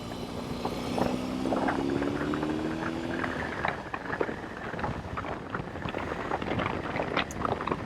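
A BMW R18 Bagger 1800cc cruiser motorcycle rides in sixth gear, its low engine drone and rising whine buried under heavy wind rush buffeting the microphone throughout.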